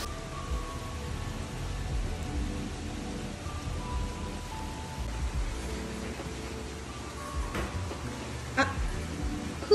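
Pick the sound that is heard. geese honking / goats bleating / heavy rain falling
heavy rain falling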